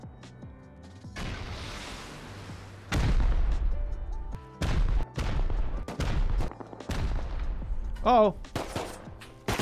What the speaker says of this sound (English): Sentry turret got him.